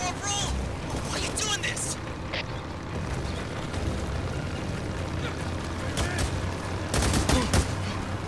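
Sustained gunfire from a gun with infinite ammo in the video game Days Gone rattles on continuously in a dense, chaotic wash. Other game noise and scattered sharp bangs mix in, with a heavier burst near the end.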